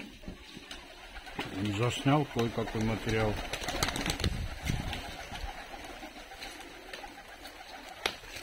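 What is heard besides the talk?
fighting pigeons cooing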